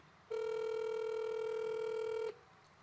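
A telephone ringback tone on an outgoing call to a radio guest's home, one steady unbroken tone lasting about two seconds, loud and clear with no voices over it.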